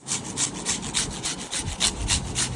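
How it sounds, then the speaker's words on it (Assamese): Raw green mangoes being cut for chutney, heard as a close, steady run of quick rhythmic scraping knife strokes, roughly a dozen in under three seconds, with no talk. "মই আম জ্বলা পচলা কৰি খাবৰ কাৰণে কাটি আছোঁ।"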